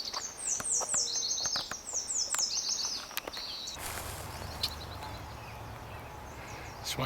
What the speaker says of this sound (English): Just a ton of bird activity